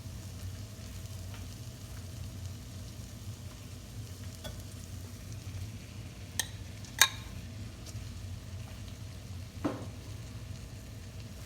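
Shrimp vegetable fried rice stir-frying in a pan after the rice goes in, a faint, steady sizzle with a few soft scrapes and clinks of a utensil against the pan, with no talk.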